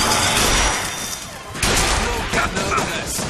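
Gunfire in the video game BioShock Infinite, a dense, loud barrage of shots and impacts that runs throughout with a brief dip in the middle, mixed into a busy, noisy game soundscape.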